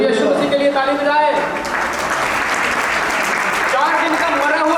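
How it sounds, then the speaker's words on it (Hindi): An audience at a Christian worship gathering breaks into a burst of loud clapping that swells in the middle, with a voice speaking over it at the start and again as the clapping fades. "प्रभु यीशु मसीह के लिए ताली बजाए।"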